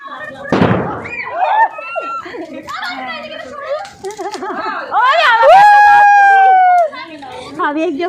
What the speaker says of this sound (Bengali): আমার ভয় লাগছে, বমটার যা আওয়াজ